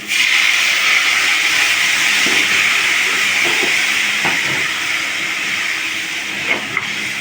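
A splash of water hits a hot pan of fish-frying oil and chili powder for a rohu fish curry, giving a loud, steady hissing sizzle up close that eases only slightly over time, with no talk.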